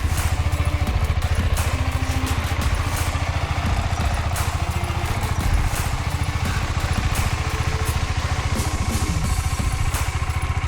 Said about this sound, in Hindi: अभी मैंने बाइक को कोल्ड स्टार्ट कर दिया है